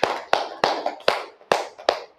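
Six sharp, close hand claps spaced about a third to half a second apart in a steady rhythmic pattern, each crisp with a brief decay, demonstrated by a teacher in a classroom.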